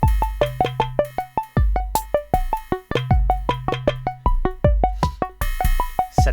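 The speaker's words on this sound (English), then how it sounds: "so that sound you're hearing is coming from my module, is coming from that mutable instruments plate" A Mutable Instruments Eurorack module plays a MIDI-synced arpeggio of bright plucked synth notes in a fast, even rhythm. Short bass notes are layered underneath, and the patterns cycle and repeat, clear and up front with no voices.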